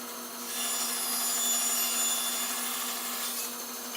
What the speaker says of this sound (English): All you're doing is cutting a groove here